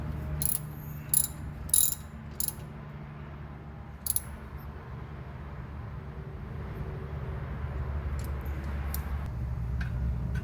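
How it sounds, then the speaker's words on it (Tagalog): A ratcheting wrench clicks in short bursts while tightening a nut on a coilover mount of a 2015 Lancer, a few quick ratchet clicks spaced apart over a steady low background hum. "Then hand tighten the nut."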